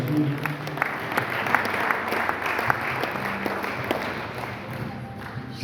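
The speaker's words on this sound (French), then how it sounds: "On acclame très fort le Seigneur." Church congregation at a night prayer vigil applauds and cheers loudly for the Lord, a dense, steady wash of clapping with mixed voices that holds for several seconds.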